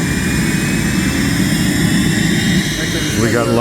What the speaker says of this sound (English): We got lots of jet noise going on here